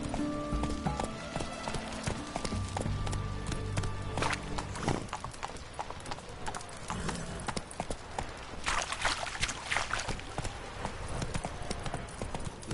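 Roach, a horse in The Witcher 3, galloping in a quick, rhythmic clip-clop of hooves, loud and close at first and then mixed with busier game sounds later on.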